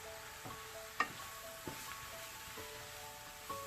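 Flour cooking with softened vegetables in a pan on medium heat for chicken and dumplings, making a quiet, low sizzle broken by a few faint clinks and stirring scrapes, close by and with no talking.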